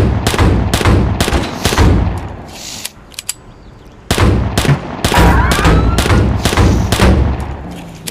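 Pistol shots in the Android game Grand Criminal Online ring out in quick sharp bursts, a brief lull near the middle, then another steady string of loud, close cracks mixed with mechanical clicks.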